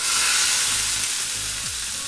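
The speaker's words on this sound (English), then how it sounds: "just sear it." Striped bass sears in a hot pan with a loud, dense, continuous sizzle that stays steady throughout, close up, along with a faint low hum.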